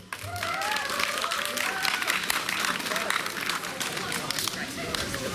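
An audience at an outdoor youth street-subculture festival claps steadily and loudly, a dense crackle of applause that carries on throughout with crowd murmur underneath.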